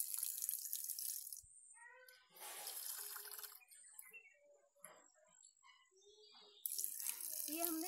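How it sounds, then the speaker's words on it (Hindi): Rice is washed with water, with faint intermittent splashing and tap flow in short bursts separated by quiet gaps, and a louder rush of running water at the start and end. "ये चावल को हम दो बार धोने वाले हैं। अच्छे पानी से इनको थोड़ा सा"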